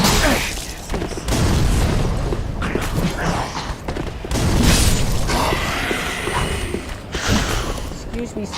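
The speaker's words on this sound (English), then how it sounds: "You two are utilizing fireworks without a proper permit and license." Fireworks burst in the Dark Souls 3 video game: a dense run of booming, crackling blasts that comes and goes in waves over steady game noise for several seconds.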